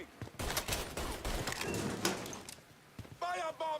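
Gunfire in the video game Mafia 3, loud bursts of rapid shots and broadband cracks packed together across the first few seconds, mixed with shouting voices and game effects.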